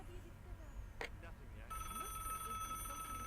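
A telephone rings in the Broken Sword video game, with a steady electronic ringing tone that starts partway through and continues over a low background hum.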